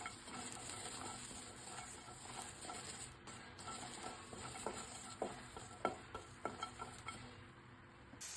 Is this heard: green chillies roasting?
yes